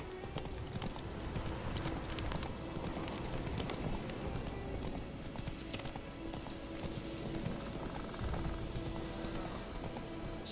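A horse gallops in the video game The Witcher 3, its hooves a steady, rapid clip-clop rhythm at fairly low volume, running continuously without pause.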